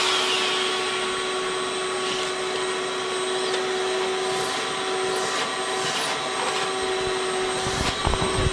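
A vacuum cleaner runs steadily in a workshop where a lathe is being mounted, giving a constant loud whirring drone with a sustained tone, close by and alone with no speech.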